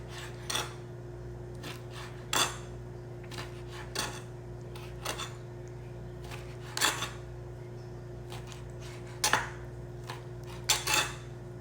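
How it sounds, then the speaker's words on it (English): A knife dicing food for aquarium fish on a cutting board, sparse sharp chops at irregular intervals over a steady low electrical hum. "I usually just cut them up, little dices like this."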